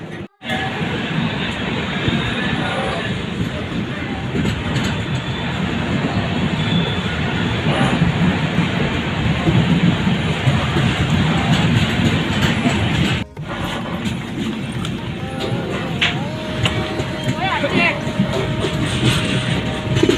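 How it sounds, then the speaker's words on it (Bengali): A train pulls out of a station, a loud continuous rumble of wheels and carriages that drops briefly partway through before rolling on at the same steady level. "ফাইনালি ট্রেন ছাড়লো এখান থেকে"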